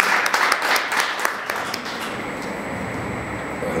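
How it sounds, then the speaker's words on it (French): A festival panel audience at FESTIGORA 2021 applauds the president of Youth for Change Mali. Dense clapping fills the first couple of seconds, then thins and fades into a steady room hum. "Applaudissez fort pour notre président."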